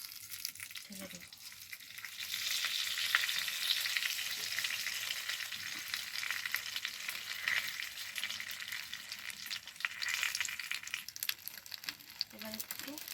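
Small mourola fish sizzle and crackle in oil on a banana leaf in a pan, a steady, dense hiss that swells and stays loud and close, with occasional stirring clicks and no talking.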